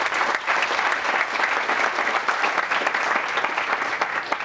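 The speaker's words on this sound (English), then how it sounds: "So let's give Coach Webster a round of applause." Sustained, loud applause from the audience at a town council meeting fills the whole few seconds, a dense steady clatter of many hands clapping with no voices over it.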